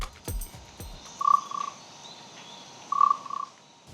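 Wooden instrument imitating a bullfrog, heard as two short, rasping croaks about two seconds apart, close and fairly loud over a quiet background, with a couple of knocks just before them.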